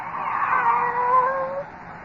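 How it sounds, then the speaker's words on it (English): A cat gives a long drawn-out meow, close and fairly loud, its wavering tone sliding down over about two seconds, in an old horror radio drama. "It's you, Kitty. Barbara's pet."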